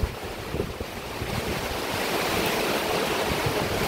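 Strong wind and rain from Typhoon Uwan roar steadily and close to the microphone, a dense, continuous rush with gusts buffeting the mic, no voices.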